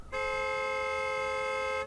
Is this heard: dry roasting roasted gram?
no